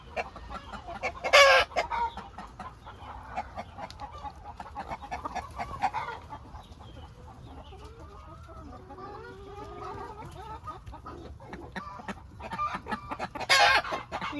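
Several chickens, including Sussex hens, cluck and chatter nearby, with a couple of louder squawks near the start and the end over a quiet farmyard background.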